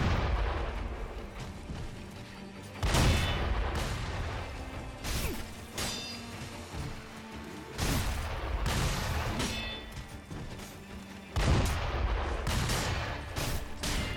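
Enemy gunmen firing at the player in the video game Sekiro, with several loud, sharp shots and booming reports spread across the stretch over a steady backdrop of game ambience.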